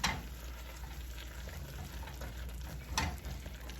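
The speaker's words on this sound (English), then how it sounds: "I'm going to turn the heat off, stir this all around" Vegetables are stirred in a pan with the heat turned off, a faint steady sizzle with soft scraping and a clatter of the utensil near the start and again midway.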